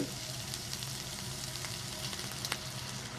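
Ham searing in a hot pan, a continuous soft sizzle and crackle of frying meat heard up close and fairly quiet, steady throughout with small spits and pops.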